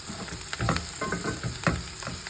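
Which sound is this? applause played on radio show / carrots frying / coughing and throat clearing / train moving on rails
carrots frying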